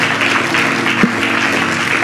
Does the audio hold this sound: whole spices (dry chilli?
no